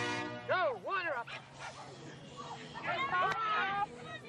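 Jack Russell Terriers at a dog race meeting, yipping and barking up close in several bursts over crowd chatter and talk.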